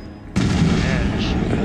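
A sudden loud blast bursts in the Resident Evil 7 video game, a sharp booming explosion onset followed by a sustained rumbling roar and debris noise.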